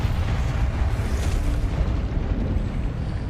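A Confringo spell explosion in a Harry Potter video game: a dense, loud, sustained rumbling blast filling the whole moment, with no talking over it.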